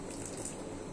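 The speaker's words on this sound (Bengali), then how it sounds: "পরিমাণ মতো লবণ, একটু কেওড়া জল দিয়ে দিব" Kewra water pouring into a cooking pot, a steady close liquid splash and trickle running through the whole second with no voices.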